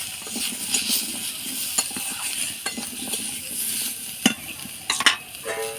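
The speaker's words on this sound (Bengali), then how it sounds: "দিয়ে আলুগুলোকে ভেজে নেব।" Potatoes fry in a pan with salt and turmeric, giving a bright continuous sizzle close by, broken by spatula stirs and a few sharp metallic scrapes and clinks near the end, with no one talking.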